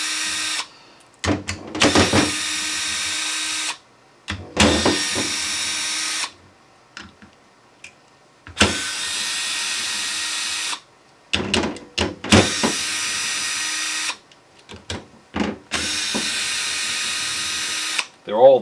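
A power tool backing out transmission plate bolts on a 4R70W to Dana 20 swap, in repeated loud bursts of several seconds with quiet gaps and someone talking between runs.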